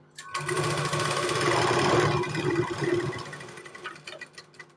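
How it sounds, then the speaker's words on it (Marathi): Sewing machine stitching a centre seam on a short blouse sleeve, a close rapid mechanical whirr and clatter running for a few seconds before slowing into a few scattered clicks. "आता ह्याला मध्ये सेंटरला एक सिलाई मारून घ्यायची आहे"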